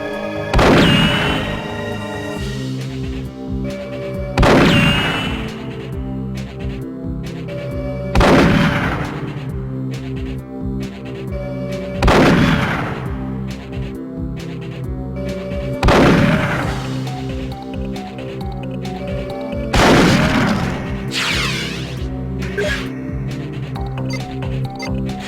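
Cyclone gun from Perfect Dark at the firing range, heard as repeated loud bursts about every four seconds, each a sharp blast with a falling whine, over a steady musical background.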